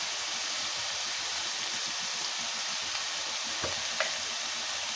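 Potatoes and eggs fry in a pan while being stirred. A constant, fairly quiet sizzle runs throughout, with light scraping from the spoon and a couple of sharper clicks toward the end.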